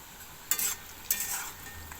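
Potatoes frying in a pan are stirred twice, each stir a bright scraping swish rising over a faint, constant sizzle; no talking.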